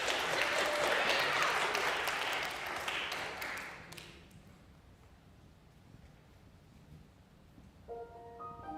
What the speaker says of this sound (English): Keep clapping for Evie, she wants it.